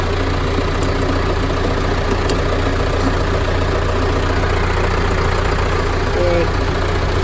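John Deere 6400 tractor engine idling and running steadily, a loud continuous low rumble close by throughout, with no talk over it.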